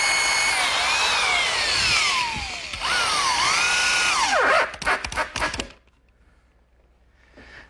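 A power drill drives screws to fasten 2x4s beneath a particle board countertop, a loud whining motor rising and falling in pitch over several seconds with short bursts near the end, then near silence.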